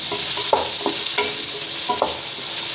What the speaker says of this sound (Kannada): ಇವಾಗ ಟೊಮೆಟೊ ಚೆನ್ನಾಗಿ ಸ್ಮ್ಯಾಶ್ ಆಗೋ ತನಕ ಫ್ರೈ ಮಾಡಿ.